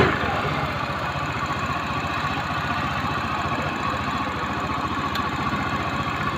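A Honda Beat FI scooter engine idles steadily up close after a fix to its wiring, a continuous low rumbling throb that stays even throughout with no breaks.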